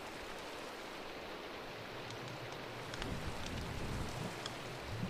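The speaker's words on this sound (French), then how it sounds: "Il pleut," Steady rain from the Minecraft video game, a dense even hiss of falling drops that continues alone throughout, slightly louder in the second half.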